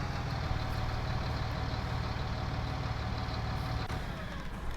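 Tractor engine idling in a farming survival game, a steady low rumble held at an even, moderate level throughout, no talk over it.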